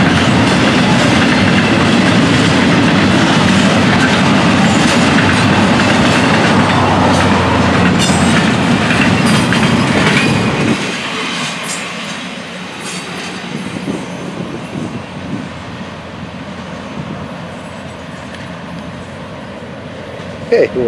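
Freight train passing close by, a loud continuous rumble of rolling cars with clickety-clack of wheels and some squeal, dropping off abruptly to a quieter roll as the train moves on, with voices talking.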